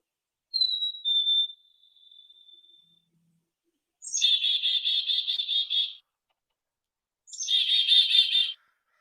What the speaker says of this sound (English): It's my friend the chickadee, the black-capped chickadee, singing for us this morning